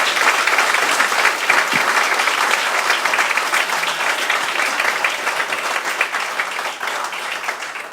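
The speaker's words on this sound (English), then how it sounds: "Everyone give a round of applause." A live stage show crowd gives sustained, full-bodied applause for a group of performers, steady clapping that keeps a fairly even level for the whole stretch and fades slightly toward the end.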